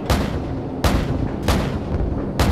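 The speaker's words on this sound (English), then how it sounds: "You're firing too close to the friendlies." Artillery fire and explosions in the video game Call of Duty 4: Modern Warfare, with four heavy, loud booms at roughly even intervals over a continuous low rumble, without speech.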